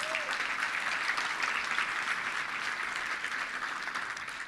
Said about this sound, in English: Let's give a round of applause for everybody if you don't mind